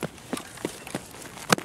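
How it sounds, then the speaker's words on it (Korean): Player footsteps running indoors on the Factory map in Escape From Tarkov, a series of soft, fairly quiet thuds spaced at irregular intervals, with one louder step near the end. "뛰는 소리 나잖아 지금"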